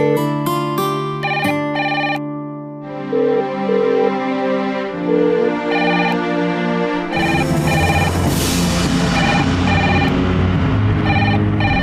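A telephone rings after a call is dialled: a series of bright electronic tones repeat in close bursts, loud and near, with no voices over them.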